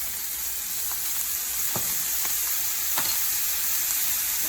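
Chopped parsley and minced garlic sizzle in melted butter in a skillet, a steady close hiss with a few faint stirring clicks scattered through it.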